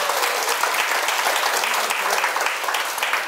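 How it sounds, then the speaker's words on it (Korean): Steady applause from an audience at a Sunday Q&A lecture, dense continuous clapping that fills the room and holds evenly throughout. "큰 박수 축하해주세요"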